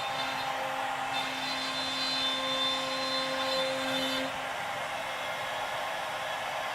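A CNC router cuts a part out of old plywood with a steady, airy spindle whine and a faint tonal hum, continuous and fairly quiet, slightly easing near the end, with no talking.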